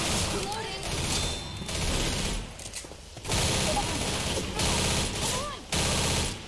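Gunfire in the video game Left 4 Dead comes in repeated bursts of rapid shots separated by short pauses, with game sound effects and voices in the mix.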